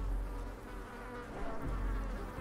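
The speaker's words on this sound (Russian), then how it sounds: "это надоедливое жужжание, честно говоря, уже достало" Insects buzz in the dark fantasy video game Darkest Dungeon: a continuous, fairly loud droning hum that holds steady through the whole stretch with no voices over it.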